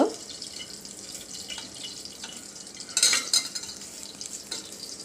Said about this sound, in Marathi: गरम झालेलं आहे तेल। 1 टीस्पून जिरं घालते, हिंग,